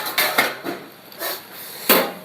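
A large metal tawa griddle is handled in a home kitchen, making several sharp clanks and scrapes at irregular intervals, close and fairly loud with no talking.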